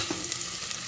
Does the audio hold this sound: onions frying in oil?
yes